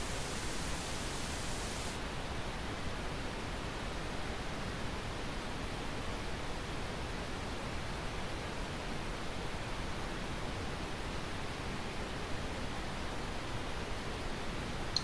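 A steady, broadband hiss of test noise plays continuously in an EQ ear-training game, with a brief brighter stretch at the start before settling into an even, unbroken rush at constant level.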